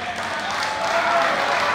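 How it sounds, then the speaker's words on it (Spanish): Audience applause at a blues band concert in a small club in Quilmes, a brief dense burst of clapping from a crowd, steady and fairly loud throughout. "Como siempre pido un aplauso para el Club Tucumán"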